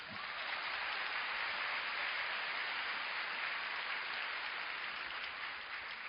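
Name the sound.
seminar audience applause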